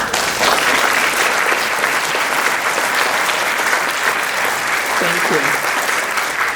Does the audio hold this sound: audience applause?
yes